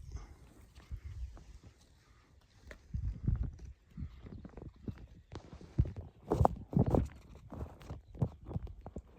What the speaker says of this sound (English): Sheep about the place.